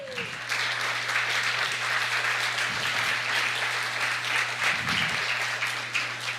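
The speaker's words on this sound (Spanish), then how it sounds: "Dele palmas a Cristo." Church congregation claps steadily during a Spanish sermon, a dense sustained patter of hands over a low steady hum, with a voice briefly audible underneath.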